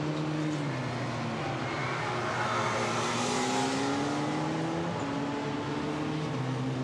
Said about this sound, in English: Kurti stays out there, and both of the BMW drivers come in too